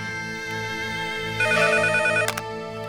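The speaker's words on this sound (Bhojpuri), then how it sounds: "घंटी जाता" A repeating electronic ring tone plays steadily, with a brief brighter burst partway through; no voices.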